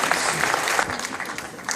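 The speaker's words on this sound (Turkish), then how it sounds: "Mersin Erdemli Belediye Başkanı Sayın Mükerrem Kolu Beyefendi'ye alkışlarımızla hizmetinizi" A crowd claps steadily and fairly loudly for the Erdemli mayor of Mersin at a gathering of people from Mersin, the applause sustained throughout.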